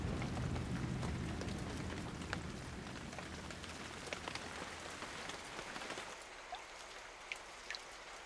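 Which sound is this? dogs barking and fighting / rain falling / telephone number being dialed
rain falling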